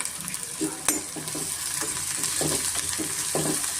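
Onions and capsicum frying in a pan for chicken liver pepper dry, with a steady sizzle and repeated stirring scrapes of a spatula, close and continuous.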